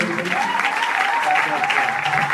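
Steady, loud applause from an audience at a church gathering acclaiming the Lord, a dense continuous patter of clapping with no pause.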